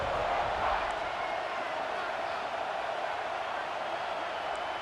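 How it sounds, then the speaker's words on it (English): Stadium crowd in EA Sports College Football 26 swelling into a steady, roaring cheer that fills the whole stretch at moderate volume, with no break or lull. "this crowd is turning it up a notch"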